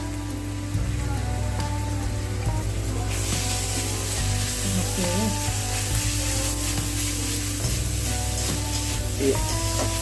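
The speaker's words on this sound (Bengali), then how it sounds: "আদা রসুন এটাকে ভালো করে ভেজে নিতে হবে না" Ginger-garlic paste fries in hot oil after onions and cumin, for a Bengali vegetable chop, giving a steady close sizzle that runs for the whole stretch with faint stirring, and no one talks.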